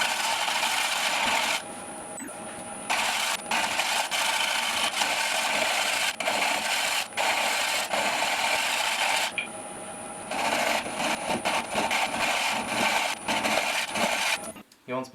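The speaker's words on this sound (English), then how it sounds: "I'm just going to do very, very light cuts with my bowl gouge to remove the tenon." A bowl gouge takes very light cuts on a zebrano wood bowl spinning on a lathe at about 700 RPM, giving a continuous close scraping hiss with short breaks and a faint high whine.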